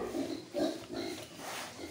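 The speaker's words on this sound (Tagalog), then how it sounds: "Napakalaking baboy po nito." A large pregnant pig grunts and oinks close by in several short, fairly loud bursts, with no talking.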